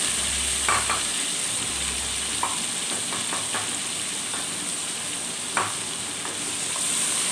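Garlic and ginger paste sizzle in hot oil with fried onions while a spoon stirs and scrapes the pan, a steady close hiss with occasional sharp spoon clicks against the pot.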